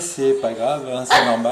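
A pet pug barks indoors near a television, its sharp bark bursting out once over someone speaking French close by.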